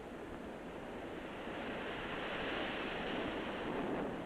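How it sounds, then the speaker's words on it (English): Pacific surf at Chicama in northern Peru, with long smooth waves breaking: a steady, broadband wash of surf that swells slightly louder toward the end, heard from a distance with no voices. "Waves a mile long and smooth as glass."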